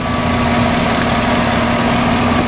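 A 2009 Chevy Silverado's 5.3 V8 idles under an open hood, a steady, even drone with a constant hum, close and loud throughout.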